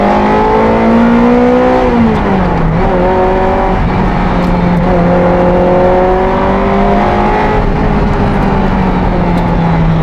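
A Ferrari F355 Challenge race car screams at high revs while driving on an open road, its loud engine tone climbing, dipping briefly and rising again in a continuous close-up drone.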